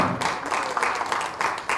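Audience applause at a virtual meet and greet, a short stretch of dense, uneven clapping at moderate loudness with no talk on top.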